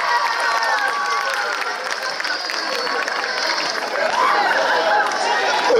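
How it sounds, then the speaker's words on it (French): Audience at a youth gathering in Abidjan, Côte d'Ivoire, applauding together: dense, steady clapping mixed with cheering and crowd chatter, loud and sustained throughout. "Des applaudissements pour la croix dans la tête, s'il vous plaît."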